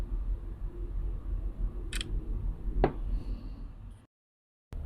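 Sony Xperia phone's two-stage shutter button pressed to take a photo: a short click near two seconds, then a sharper broadband snap just before three seconds. A faint background hiss runs underneath, and the sound cuts to silence near the end.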